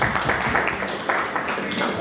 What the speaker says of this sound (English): So a round of applause for the 2000s